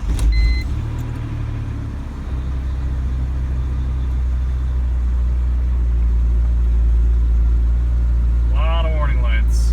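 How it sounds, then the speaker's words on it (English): A BMW E46 M3 convertible engine starts from cold, with a brief crank that settles into a steady, loud, close idle rumble. A short chirping sound comes near the end. "So here's I guess a cold start for you guys."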